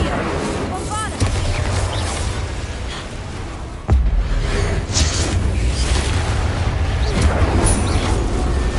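A Bombarda explosion spell from the game Hogwarts Legacy: one sudden, loud blast bursts out near the middle, over a steady bed of game noise and rumble.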